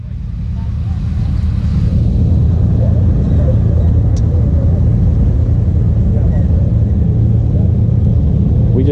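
A small off-road car fitted with a turbocharged wedge engine drives along, giving a steady, loud low rumble that builds over the first second and holds throughout, with no talk.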